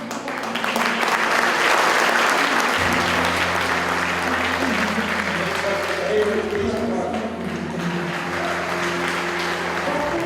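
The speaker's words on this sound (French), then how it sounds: "sous les applaudissements nourris de la salle" A hall audience applauds a police team on the podium at the Urban Shield competition, dense sustained clapping filling the room, loud and steady throughout with a low hum underneath.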